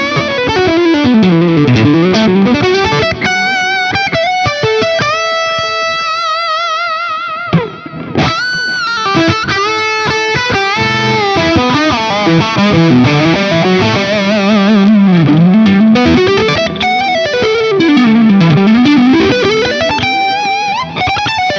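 Electric guitar played through a Laney Lionheart Loudpedal set for heavy gain with reverb and delay, a sustained distorted lead line of fluid bends and held notes with trailing echoes, loud and continuous with no talking.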